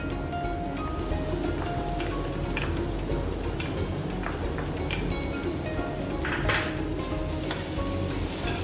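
Minced garlic frying in a hot pan for egg fried rice gives a steady, close sizzle with faint clicks and ticks running throughout, and no one speaks over it.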